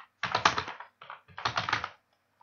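Computer keyboard typing while an online application form is filled in: two close, brisk bursts of clicking keys with a short pause between them, and no talk.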